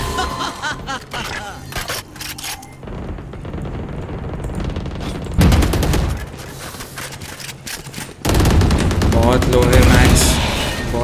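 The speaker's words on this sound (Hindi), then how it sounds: "that's nice superb shot bye razor blade" Gunfire in a competitive Valorant esports match, with rapid bursts and shots crackling throughout, loud and busy, mixed with game effects and a commentator talking over it.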